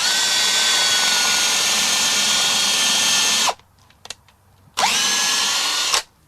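A power drill boring holes in wood runs in a long, loud whine, stops with a brief clatter, then whirs again for a shorter burst before winding down.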